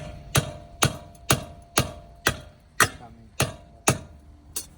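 Nine sharp metallic strikes of a heavy hammer on a lug nut of a 1991 Honda Civic ring out at an even, steady pace, each a crisp clang that quickly fades before the next blow.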